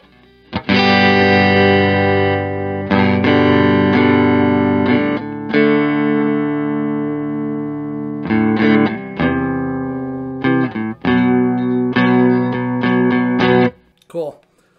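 A Chapman ML1 Hybrid Sarsen Stone electric guitar played clean through an amp. Loud, bright chords and notes ring out and sustain, broken by brief pauses and quicker strummed passages before the sound cuts off near the end.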